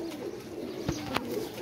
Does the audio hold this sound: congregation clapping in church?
no